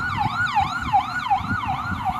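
An ambulance siren wails in a fast, repeating up-and-down cycle, fairly distant and steady over faint traffic rumble, with no talking.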